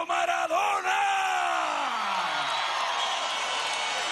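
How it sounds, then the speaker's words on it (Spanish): A huge outdoor crowd at a campaign rally on Caracas's Avenida Bolívar roars in an ovation for Diego Armando Maradona, a loud continuous wall of cheering and yelling, with a drawn-out voice sliding downward early on before the mass roar carries on alone. "Una ovación de amor y cariño para Diego Armando Maradona."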